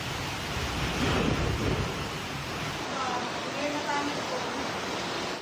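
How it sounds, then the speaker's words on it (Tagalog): Heavy rain pours in a dense steady roar, with gusty wind surging underneath, in Polomolok, South Cotabato; a voice speaks faintly in the background. "Kasabay niya ng malakas na buhos ng ulan."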